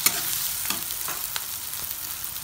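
A masala mixture with cinnamon powder stirred in a pan for village-style chicken fry, a continuous sizzle broken by repeated scraping strokes of a spoon.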